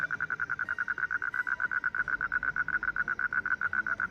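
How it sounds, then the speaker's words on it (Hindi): Frogs croak from inside a pond in a steady, rapid train of evenly spaced calls that carries on without a break, heard alone with no voices. "तालाब के अंदर से ना मेंढकों की आवाज़ें आ रही है"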